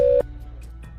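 A landline telephone call signal sounds as a short sharp tone burst, followed by a few faint repeated pulses over a low steady hum, with no speech.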